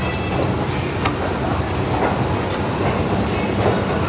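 A metro train at Central Secretariat metro station rumbles steadily with a broadband roar and faint wheel clatter, plus a couple of brief sharp clicks, loud and continuous without speech.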